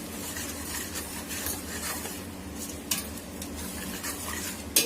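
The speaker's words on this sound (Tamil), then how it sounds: "நல்லா வதங்கட்டும் மசாலா, அதான் கொஞ்சம் மசாலா வதங்கட்டும், அது வரைய போட்டு வதக்கிடுவோம்." Biryani masala mixed with curd fries in a pan with a steady, close sizzle, broken by stirring scrapes and a few metallic clinks of a utensil against the pan; no one talks.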